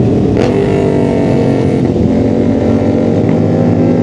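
A loud, steady Yamaha R7 motorcycle engine roar with throttle revs, close and continuous, with rough wind-like noise throughout.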